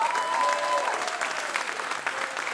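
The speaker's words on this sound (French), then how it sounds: "Il faut les applaudir." A concert audience at an ensemble-class performance claps warmly for the bass teacher, a dense, steady wave of applause lasting a few seconds, with a faint voice or tone threading through the start.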